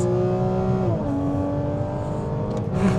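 A Porsche engine revs while shifting gears, a steady droning tone that dips in pitch at a gear change, then holds and swells again, heard loud from inside the car with no talk.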